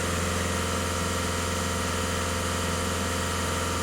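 A VW Golf 1.6 TDI diesel engine runs with a steady, even drone and a constant low throb, held at a raised speed with no clear rise or fall, close and loud with no voices.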